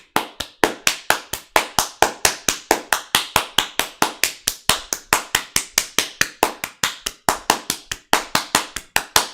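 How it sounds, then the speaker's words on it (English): One person claps their hands in a steady, even rhythm, dozens of crisp, close, loud claps in a row with no talking. "Now make a little clapping sound with the hands."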